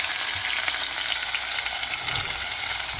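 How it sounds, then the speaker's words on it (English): Seasoning sizzles and fries in very hot oil for Jamaican roast fish stuffed with callaloo, a steady dense crackling hiss that stays close and even throughout with no talking. "now I'm just gonna be adding my seasoning to the oil"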